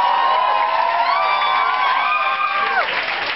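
A live concert audience applauds and cheers in a steady, loud wash of clapping and whoops, with a sustained musical tone ringing out and then cutting off.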